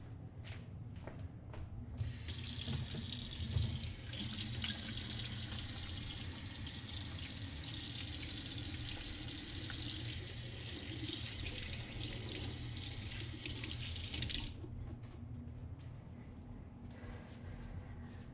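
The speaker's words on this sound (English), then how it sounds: "I'm going to wash my hands now so that we can do hay." Tap water runs steadily into a sink during handwashing while guinea pig cages are cleaned, a continuous close splashing hiss that starts after a couple of seconds and stops near the end, with faint clatter before and after.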